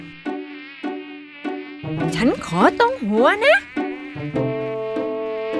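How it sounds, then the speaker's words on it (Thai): Cartoon mosquitoes buzz in high, wavering whines that rise and fall in several bursts, layered with a brief spoken line, under a light cartoon background. "ฉันขอดูดเลือดมันตรงมือเลย จะได้ตบยุงไม่ได้อีก"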